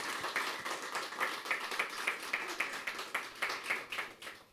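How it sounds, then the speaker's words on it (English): An audience applauds a pair of guests being welcomed onto the stage at a chess tournament event, a steady wash of many hands clapping at moderate level, with no voices on top. "please give him or give them a very warm round of applause"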